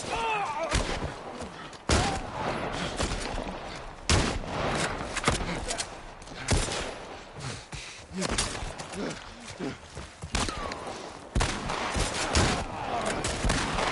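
Gunshots ring out in the video game The Last of Us Part I, several loud sharp cracks spaced through the stretch with echoing tails, mixed with game movement noise while a voice talks.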